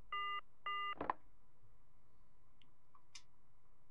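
Two short telephone keypad tones in quick succession, then a sharp clunk like a receiver being handled, followed by a faint, nearly silent line, from the PS1 video game Silent Hill.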